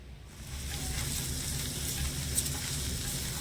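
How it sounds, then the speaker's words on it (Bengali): Drumstick flowers (sajne phul) stir-fried in a pan give a steady close sizzle with soft scraping and stirring textures, continuous throughout with no talking. "এখানে খুব সুন্দরভাবে নেড়ে ছেড়ে একটু ভেজে নিয়েছি"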